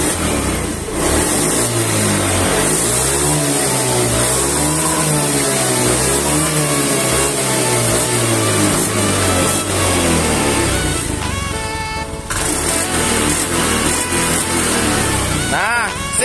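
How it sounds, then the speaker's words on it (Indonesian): A Honda Beat scooter engine revs up and down in repeated surges, loud and close, with a steady mechanical drone between throttle bursts. "Motor kita hidupkan."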